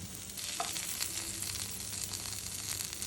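Pointed gourd (potol) pieces fry in mustard oil in a pan, giving a steady, soft, hissing sizzle with faint crackles throughout and no talking.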